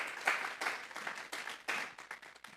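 A congregation at a Sunday church service claps in a fairly faint, rhythmic pattern of uneven bursts, somewhat distant, with no speech over it.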